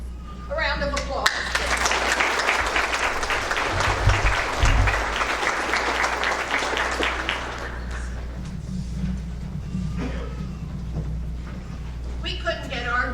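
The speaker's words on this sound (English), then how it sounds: "A round of applause." Sustained audience applause fills a school spring band concert hall, loud and steady for about seven seconds before tapering off, with brief talk afterward and a low hum running underneath.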